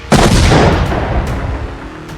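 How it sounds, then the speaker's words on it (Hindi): A single heavy boom from an Israeli strike on Kafar Kila village in southern Lebanon bursts out suddenly, followed by a rumbling decay that fades over a couple of seconds. "दक्षिणी लेबनान में पहला धमाका"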